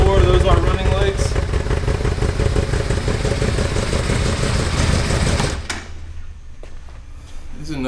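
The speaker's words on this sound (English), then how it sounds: "This is a nice sounding bike." A 2009 Yamaha Royal Star motorcycle engine idles steadily and close by with a low, even rumble, then drops sharply to a much quieter idle around the sixth second.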